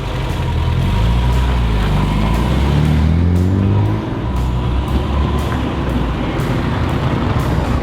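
A classic car engine runs, a loud low rumble with rising and falling tones as revs change, then settling into a steady drone.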